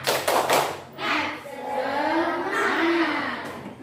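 A class of pupils does a short patterned spirit clap, a few quick, loud claps followed by one more, and then a voice carries on speaking over faint room noise.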